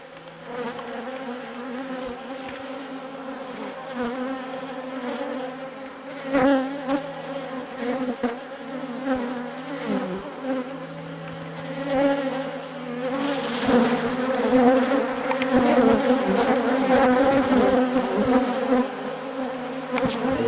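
Agitated honeybees from a freshly opened, disturbed hive swarm close by, a dense, loud, continuous buzzing that swells and surges over about twenty seconds, with no talk.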